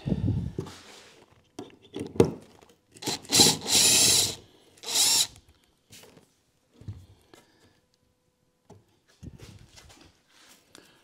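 A power drill whirs in several short bursts while working a screw on a model railway track layout, the longest running a couple of seconds, with quieter handling and scraping noises between them.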